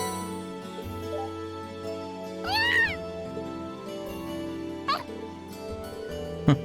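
A cat meows twice in a Trails of Cold Steel game scene, one clear rising-falling meow mid-clip and a shorter one later, over soft game background music.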